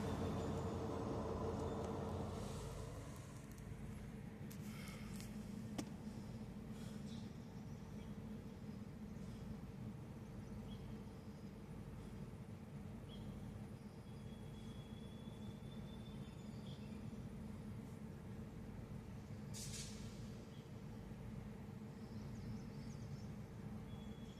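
A low, steady rumble of idling locomotives drones on at a distance on a hot day, with faint background noise and no voices.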